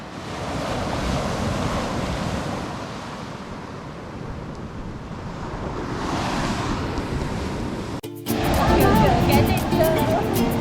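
Surf washing onto a beach, a continuous roar of breaking waves with heavy wind buffeting the microphone, loud and close, briefly cut out near the end before resuming louder.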